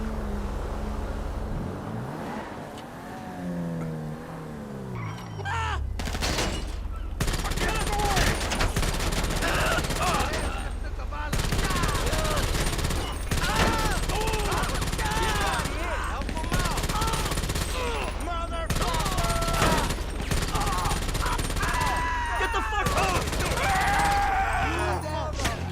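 Rapid bursts of automatic gunfire crackle repeatedly in GTA 5 Online, sustained and loud across the whole stretch, with vehicle engine noise underneath.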